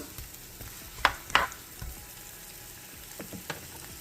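Chunky onions fry in a pan for coconut curry karela, a soft steady sizzle close by with a couple of sharp stirring clicks early on and no talking.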